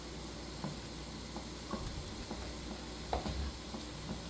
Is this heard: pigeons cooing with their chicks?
no